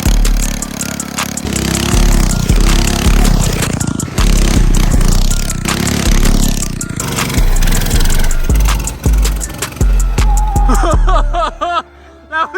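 A Coleman mini bike engine runs loud and close with a buzzing, revving drone that rises and falls. Voices and laughter sit over it, and it cuts off near the end.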